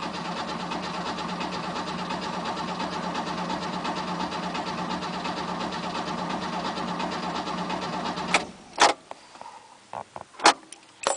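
An old 1967 Mercedes engine runs steadily and rough just after a cold start, then cuts out abruptly, leaving a few scattered clunks and knocks.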